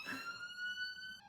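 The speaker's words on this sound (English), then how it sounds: "He turned that siren on right outside my window." An ambulance siren sounds just outside a window, a clear sustained wailing tone at moderate distance with nothing else over it.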